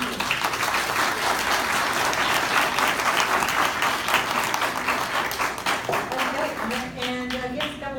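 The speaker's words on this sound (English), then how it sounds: "Can we give them an applause?" Audience applause at a Laramie County primary candidate forum, a dense, steady clapping from a crowd that fills the whole stretch and thins slightly near the end, with faint voices underneath.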